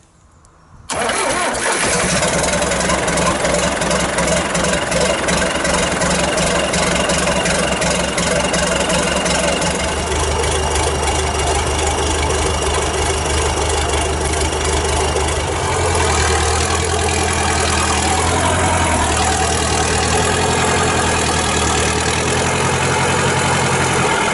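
An old vehicle out of gear cranks and fires after a brief quiet start, then settles into a loud, steady idle with a low rumbling beat that shifts slightly in tone partway through, close by with no talk.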